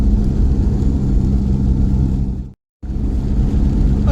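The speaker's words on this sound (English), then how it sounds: "so the engine seems to be performing all right now" A VW TDI diesel engine in a T3 van runs at a steady idle with a low, even rumble. The sound cuts out abruptly for a moment and then resumes unchanged.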